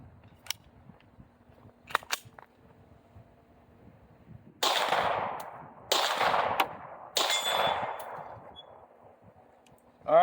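A Glock 26 pistol fitted with a Zaffiri Precision RMR slide fires three loud, close shots outdoors, about a second apart, each trailing a ringing echo. Light mechanical clicks and handling noises come before the shots, and another sharp click follows at the end.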